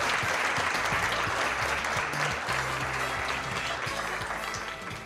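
Steady applause from a studio audience at a televised comedy show, greeting the comedians; dense, even clapping, with some music running underneath, trails off slightly toward the end.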